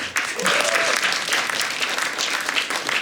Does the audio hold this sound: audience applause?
yes